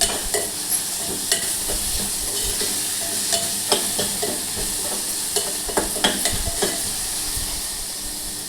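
Onion, tomato and methi greens frying in oil for methi rice bath, a constant close sizzle broken by regular scraping stirs and small spoon knocks against the pan, with no voices.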